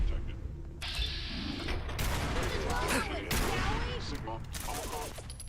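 Rapid bursts of .50 cal gunfire crackle in Fallout 4 amid other loud combat noise, continuous and dense across the whole stretch.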